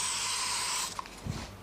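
Strong hair spray hisses from an aerosol can in one steady, close burst being applied to a bridal hairstyle, then stops abruptly, followed by faint handling clicks.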